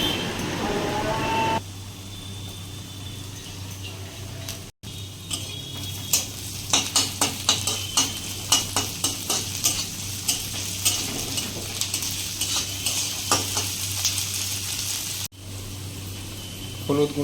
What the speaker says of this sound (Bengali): কাঁচা লঙ্কাগুলো দিয়ে নাড়তে নাড়তে এরপরে আদা আর রসুন বাটা একসঙ্গে দিয়ে দেবো।